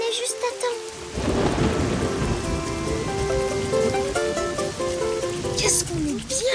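Steady, heavy rain and rolling thunder fill a cartoon scene, continuous and close, with soft tonal music and a light voice drifting over the downpour.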